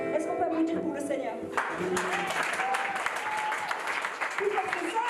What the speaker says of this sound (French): Est-ce qu'on peut applaudir pour le Seigneur?